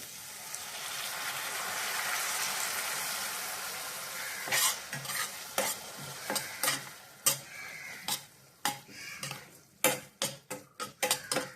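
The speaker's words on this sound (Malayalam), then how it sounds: "ഇതിലേക്ക് ഒരല്പം വാളൻ പുളിവെള്ളം ഒഴിച്ചു കൊടുക്കാം" Tamarind water is poured into a pan of sautéed tomato and onion, raising a steady hiss and sizzle, followed by a series of sharp spoon taps and stirring clicks against the pan.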